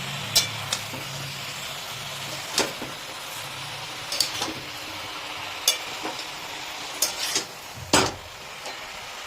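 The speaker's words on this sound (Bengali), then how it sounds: "আর এগুলোকে করে দিতে হবে ভালো করে মিক্স।" Greens frying with a fish head in a pan give a steady sizzle, broken by repeated sharp clinks and scrapes of a spatula as the mixture is stirred at irregular intervals.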